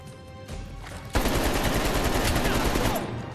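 Sustained automatic gunfire in Call of Duty Cold War's campaign, a loud unbroken rattle of shots that kicks in after a quieter moment and holds steady to the end.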